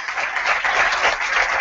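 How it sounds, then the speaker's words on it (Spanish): Studio audience applause for a magician on a TV magic show, a thick, continuous wash of many hands clapping at once, loud and close, with no talk over it. "el primer aplauso ya sabéis que tiene que ser el más potente"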